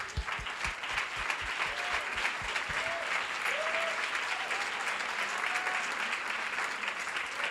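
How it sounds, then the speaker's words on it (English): An audience applauds a group of girls at a women-in-technology event, a sustained, even wash of clapping from a full room, with a few louder single claps up front at the start. "Would you please stand up so we can applaud you?"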